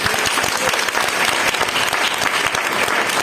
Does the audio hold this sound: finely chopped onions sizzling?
no